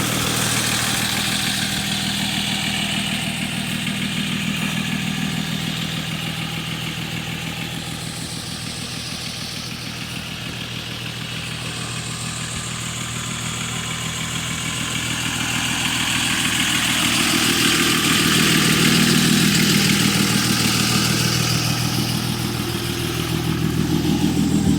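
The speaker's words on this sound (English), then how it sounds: "Get a little bit of that cold start sound." A 2006 Cummins diesel Megacab truck with a big turbo and manual transmission idles after a cold start, a loud, steady rumbling clatter that slowly swells and eases over about twenty-five seconds, with no voices.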